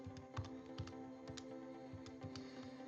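Keys tapped on a TI-84 Plus CE graphing calculator while entering a Pac-Man program, a quick irregular series of soft close clicks over a low steady hum.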